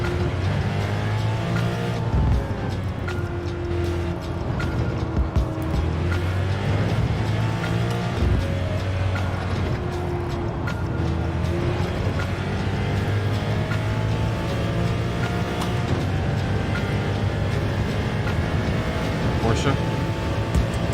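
A Porsche race car in Gran Turismo 7 drives with a loud, revving engine whose pitch climbs and drops through gear shifts, with occasional tire squeal and a voice talking over it.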